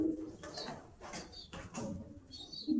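Pigeons at a bird seller's in Holenarsipura, Karnataka, coo softly in repeated low calls, with faint chirps between them.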